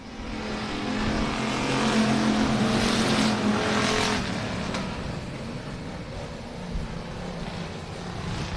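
Dirt track race cars at a night race accelerate off the start together, a dense, distant roar of engines swelling and then holding steady as the pack pulls away.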